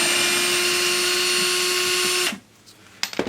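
A power drill boring dowel holes in wood whines loudly and steadily at close range, then cuts off abruptly, leaving quieter handling knocks and clatter.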